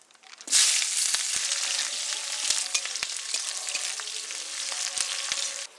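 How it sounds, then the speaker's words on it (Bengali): Cumin seeds, dried red chili and chopped onion hit hot oil as a tempering, bursting into a loud, close sizzle that holds steady with scattered small pops and crackles. "ফোড়নে দেবো জিরে আর শুকনো লঙ্কা, কুচনো পেঁয়াজ"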